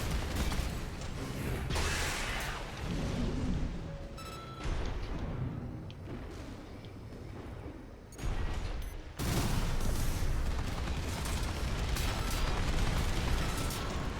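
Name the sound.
gunfire in the video game Armored Core VI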